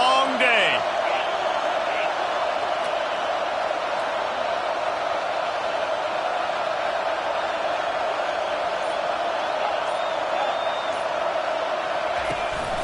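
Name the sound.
stadium crowd roaring at a football game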